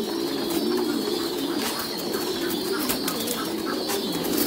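Thai Titan pigeons coo steadily in a loft, their low, continuous murmuring filling the space at close range with no pauses, alongside occasional faint chirps and wing rustles.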